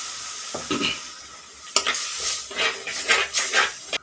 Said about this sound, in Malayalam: ഇച്ചിരി വെള്ളം ഒഴിച്ചു കൊടുക്കുക